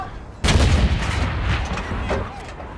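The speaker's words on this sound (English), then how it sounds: "Firing gold shell?" A tank cannon fires a gold shell in World of Tanks, a single loud booming blast that hits suddenly and rolls into a sustained rumbling echo.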